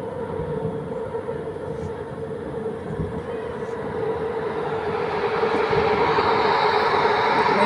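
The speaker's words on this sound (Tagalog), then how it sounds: "Oo, parang may biyahe pa rin yung LRT." An LRT light rail train runs past in the city at night, a steady rumbling roar that swells louder toward the end.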